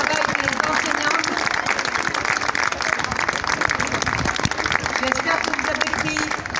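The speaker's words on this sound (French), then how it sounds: "Je crois qu'on peut applaudir très fort le travail des enfants" An audience at a children's school carnival parade applauds, steady dense clapping throughout with a busy crowd murmur and voices mixed underneath.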